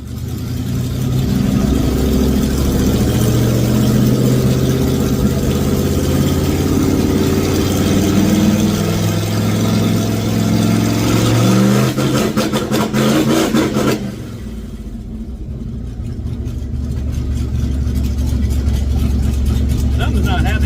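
A carbureted engine runs on a dyno, holding a loud, harmonic revving drone that climbs in pitch, then cuts abruptly around fourteen seconds before settling into a lower rumbling idle; a voice talks over it.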